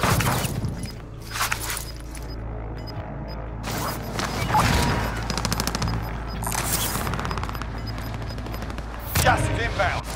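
Rapid bursts of video game gunfire crackle through the scene, dense volleys swelling and fading across the stretch with continuous background game noise and occasional sharper impacts.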